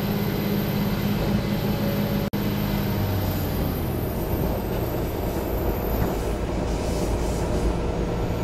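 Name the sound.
airport train running on the track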